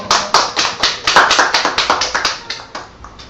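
A church congregation claps hands in unison during a Wednesday worship service, sharp rhythmic claps in a fairly steady beat, close and loud, slightly uneven across the room, with no speech.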